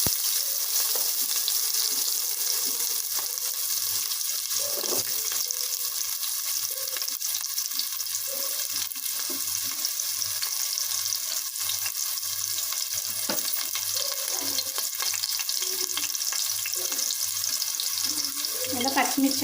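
Onions fry in oil in a pan for a tomato gravy, a steady, continuous close sizzle with occasional stirring scrapes throughout.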